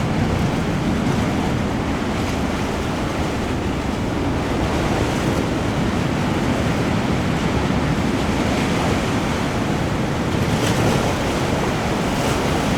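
Ocean surf crashes and washes over a rocky headland in a loud, unbroken roar, with wind buffeting the microphone and no voices.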